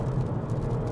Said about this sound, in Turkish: Motorun sesi böyle hafiften geliyor.